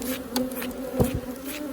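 Honey bees buzz around an opened hive during an inspection, a steady close drone with individual insects flying past the microphone, no talking.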